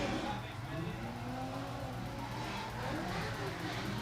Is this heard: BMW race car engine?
yes